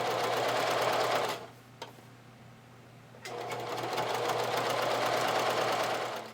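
A sewing machine stitches stretch lace trim onto lingerie fabric with a close, fast, steady whir. It stops briefly for about two seconds, then resumes at the same pace.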